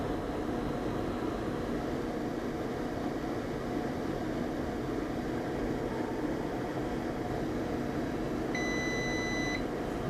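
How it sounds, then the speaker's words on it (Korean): A temperature calibrator alarm sounding when the 70 degree set point is reached: a steady high electronic beep near the end, over a constant hum of fan-like machine noise. "지금 보시는 것처럼 이제 70도 셋 포인트에 도달했을 때 그만 알람이 울렸었고요"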